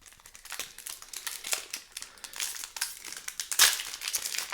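Crinkly plastic wrapper of a Baldur's Gate draft booster pack being handled and torn open, a quiet, close series of rustling crackles with a sharper rip near the end and no talking.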